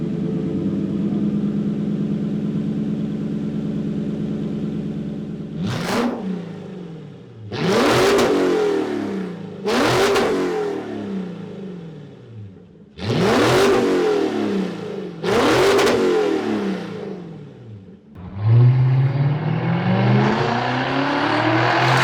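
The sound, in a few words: Lexus GX460 V8 engine revving through opened exhaust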